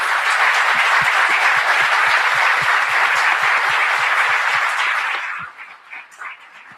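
Dense, sustained applause from a seated audience at a sustainability panel on B Corporations, loud and even for about five seconds before thinning out into a few scattered claps.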